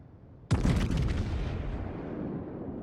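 Main guns of a low-tier battleship firing in World of Warships, a single heavy boom that breaks sharply out of quiet and rolls into a long rumbling tail.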